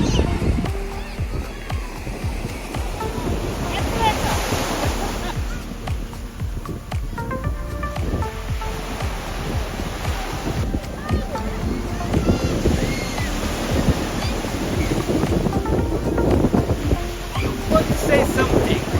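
Ocean surf washing onto an English beach in August, a steady broadband wash with swelling peaks, heard close and under intermittent background voices.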